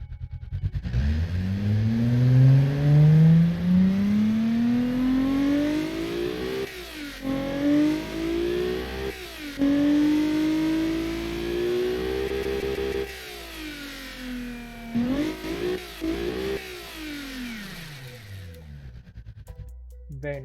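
A car engine in the game Automation cranks to life and revs repeatedly, pitch climbing through gears with brief drops between pulls, loud and close, ending in a falling tone.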